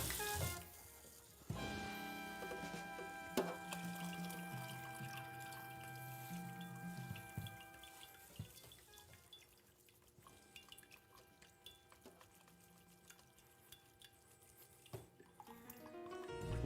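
Tap water runs into a kitchen sink while food is rinsed during chicken noodle soup preparation, a quiet, steady splashing with scattered drips and clinks of dishes nearby.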